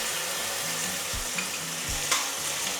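Chopped tomatoes go into onions already softened and frying in a pan, making a steady, dense sizzle with a few soft stirring knocks and one brief clatter, and nobody speaks.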